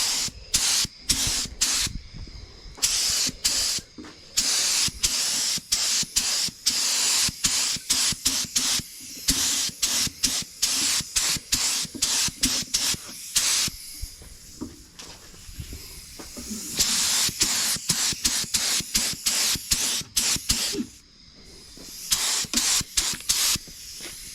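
Bursts of spray paint coat demolition derby car rims in red, the aerosol hissing in rapid, closely spaced blasts with brief gaps, loud and close throughout.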